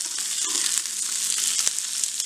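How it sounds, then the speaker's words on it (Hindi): Chopped capsicum and onion sauté in hot oil in a pan for chilli paneer, giving a close, steady sizzle with light crackles. "शिमला मिर्च और प्याज दोनों डाल देंगे। इसको हमने सौते करना है"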